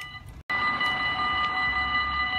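A train passes nearby in the Netherlands, a steady loud metallic drone with sustained tonal whine after a brief sharp cutoff at the start.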